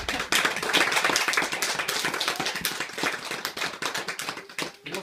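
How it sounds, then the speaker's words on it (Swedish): An audience at a magic show applauds with dense, lively clapping that keeps going throughout, then thins into scattered claps at the end. "Tack så mycket för applåderna."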